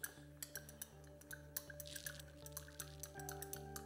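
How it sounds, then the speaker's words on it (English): Palladium chloride solution being sloshed and stirred for photographic printing, heard as a series of soft, close liquid drips and ticks over a steady low hum, with no talk. "Now what I like to do is just kind of like slosh it around a little bit carefully at first."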